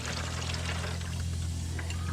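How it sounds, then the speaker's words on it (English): Juice poured back into the water pan of a smoker while cooking a pork loin, a short steady splashing pour over a low background hum. "Now, pour my juice back down in here."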